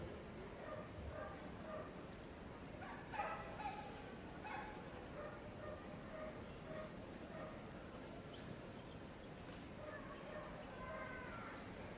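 Operational police dogs bark and yip in a dog-show arena demonstration, giving scattered barks and whimpers under a busy crowd and someone talking over a loudspeaker.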